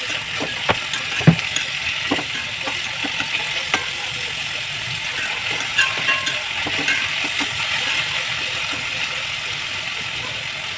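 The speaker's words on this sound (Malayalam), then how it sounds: "സവാള നല്ലോണം വഴറ്റട്ടെ." Onions sautéing in a pan while cooking crab curry, a steady sizzle broken by frequent clicking scrapes and taps of a spoon stirring against the metal.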